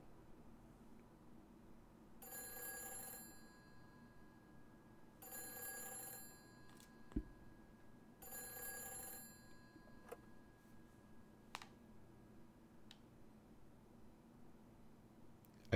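A telephone in the video game Silent Hill 3 rings in three evenly spaced electronic bursts, clear against a quiet background, followed by a few faint clicks.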